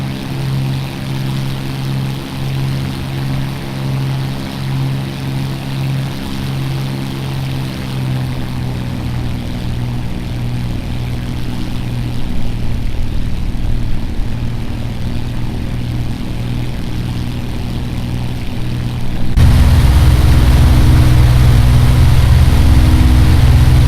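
Simulated Supermarine Spitfire Mark I piston engine driving its propeller in the A2A flight simulator, a continuous droning rumble with steady harmonic tones that swells in power and abruptly shifts to a deeper, louder roar near the end.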